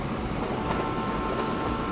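A passing train in the Train Fever video game rolls by with a steady, loud rumble and soft rhythmic clatter, alone without speech.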